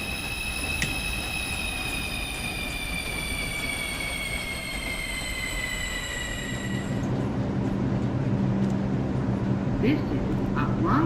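A Bronx-bound NYC subway 2 train in Minecraft brakes hard near 116th Street, its wheels squealing in steady high tones over a low rumble until the squeal cuts off and the rumble continues.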